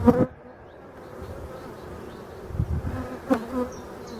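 Calm honeybees swarm around an opened beehive, a close, continuous buzzing hum broken by a couple of short knocks from handling the hive.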